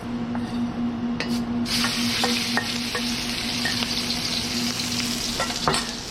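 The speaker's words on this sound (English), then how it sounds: "Now we're gonna add enough oil to coat. And we're gonna put our pork mixture in there." A ground pork mixture sizzles steadily in hot oil in a pan, a close, continuous frying hiss with a few brief scrapes and stirs. No voice is heard over it.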